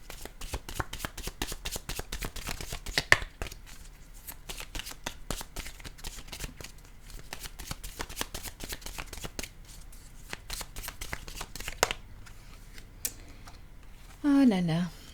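A deck of oracle cards is shuffled by hand in a series of quick, dense riffling and flicking clicks that runs on and off throughout. A voice speaks briefly at the end.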